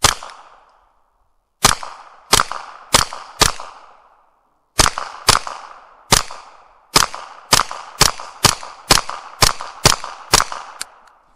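A Kel-Tec SUB2000 Gen2 9mm carbine fires about sixteen sharp, loud shots outdoors. A few single shots come first, then quicker strings, and each crack rings briefly before the next.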